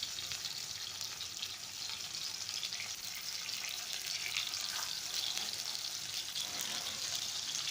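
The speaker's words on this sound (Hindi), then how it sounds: "ये वो हमारी फिश फ्राई होना शुरू हो गई है" Fish frying in ghee on a tawa, a steady close hiss of sizzling oil with faint crackles, continuous and fairly quiet, with no talking.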